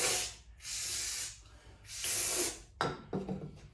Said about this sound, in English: I got some brake clean. We're going to clean some of these out so we can see what we got going on here.